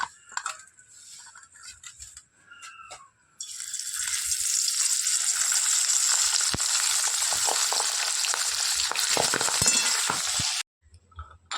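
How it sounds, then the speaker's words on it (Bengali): Small fish dropped into hot oil, quiet clatter first, then a sudden loud burst of frying that sizzles and crackles with sharp pops for several seconds before cutting off abruptly, no talk. "এই মাছ পটাশ পটাশ করে ফাটে"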